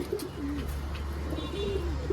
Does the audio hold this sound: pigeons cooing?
yes